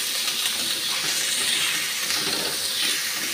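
Onions and green chillies frying in a pan, a steady loud sizzling hiss running throughout, close and without talk.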